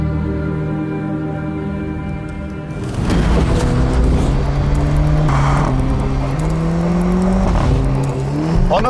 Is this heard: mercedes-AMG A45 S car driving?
yes